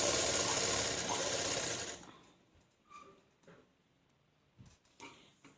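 A sewing machine runs steadily for about two seconds while stitching the belt piece of a churidar pant, then stops and leaves only faint clicks and handling sounds.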